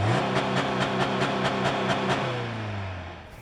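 Engine of a 2024 Subaru Crosstrek Wilderness heard from outside the car, a rhythmic revving rise and fall that fades toward the end, fairly close with no talking.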